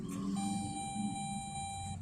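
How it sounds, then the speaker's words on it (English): Steady electronic warning tones from a car, a high sustained beep over low background rumble, fairly quiet. "my car's beeping because it always beeps"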